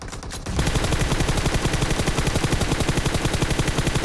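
Automatic weapon spray in the battle-royale game PUBG Mobile on the Erangel map: after a brief quiet start, a loud, rapid, steady burst of shots rattles on continuously for several seconds, with no talk.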